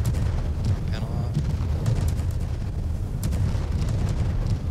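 Deep booming blasts rumble repeatedly, like cannon fire in a game, with bursts of chatter and crackling effects layered over the low thunder.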